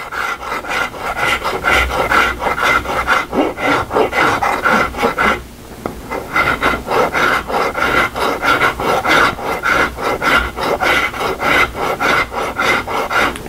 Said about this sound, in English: let's take a little rasp here. Let's get a little rasping.